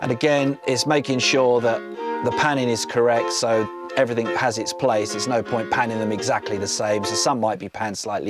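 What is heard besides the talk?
No everyday noise stands out behind the speech.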